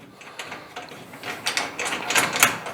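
Ratchet wrench tightening a bolt on a GMC truck fender, giving a run of quick metallic clicking strokes that grow louder and sharper toward the end, close up with no talk.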